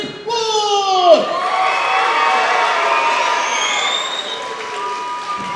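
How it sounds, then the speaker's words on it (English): A wrestling show crowd at AMW Bash in Burgin cheers and whoops loudly, with a sharp shout at the start followed by sustained crowd noise and scattered applause. "Very good round of applause for Brandon Wolfe"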